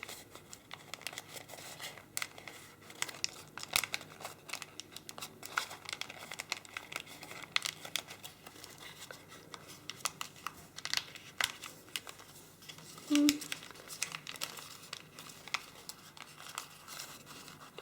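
Paper crinkles and crackles softly in close, intermittent bursts as it is creased and reverse-folded into an origami grizzly bear, with quiet gaps between the handling sounds.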